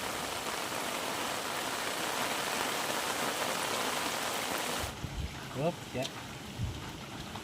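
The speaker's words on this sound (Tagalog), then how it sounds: "Sabi ko nga po ay nakita talagang lalakas ang ulan." Heavy rain pours down steadily and loudly, a dense hiss that cuts off abruptly near the end. A few voices come through faintly after it stops.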